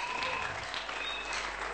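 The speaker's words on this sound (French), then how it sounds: "Acclamer très fort pour le roi d'or" Steady applause from a church congregation during a worship service, dense and continuous at moderate volume, with some cheering mixed into the clapping throughout.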